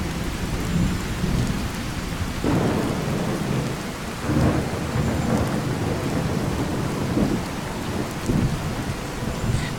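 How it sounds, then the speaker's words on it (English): Heavy thunderstorm in Fallout 4, with steady loud rain pouring over surfaces and deep rolling thunder swelling several times throughout, no voices present. "I do have the game turned down, but this storm is loud"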